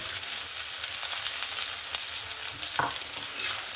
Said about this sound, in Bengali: এবার আমি কেটে রাখা সবজিগুলো এখানে দিয়ে দেব